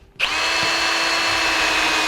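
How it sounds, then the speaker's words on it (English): A power drill starts abruptly and whines steadily at high speed, loud and close, drilling through metal without pause. "It's also a good idea to wear safety glasses and gloves while you're drilling into metal"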